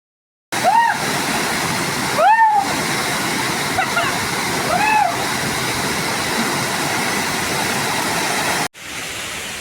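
Loud, continuous rush of water at Kusha Waterfalls, with high-pitched voices calling out over the roar a few times before a brief cut and the torrent resumes.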